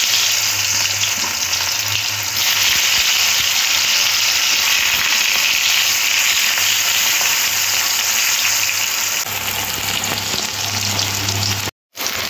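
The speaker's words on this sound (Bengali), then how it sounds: "শুক্তো বানাবো, তার জন্য এই যে কাঁচকলাটা আগে প্রথমে ভেজে নেব।" Slices of raw green banana fry in hot oil in a home kitchen ahead of making shukto, giving a loud, steady sizzle and crackle that runs almost unbroken, then cuts out abruptly near the end.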